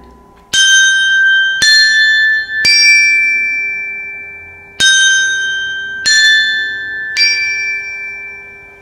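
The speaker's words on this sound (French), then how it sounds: "Ça, ce sont des petites cloches de carillon et qui ont un son très aigu." Six bright, high-pitched strikes of small carillon bells ring out at uneven intervals, each with a clear metallic tone and a long shimmering decay.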